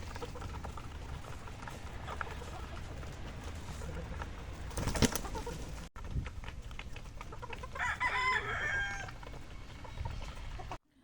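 Young gamecocks cluck and murmur in an outdoor range area on a game farm, with occasional louder squawks and flapping rising over a steady background of birds.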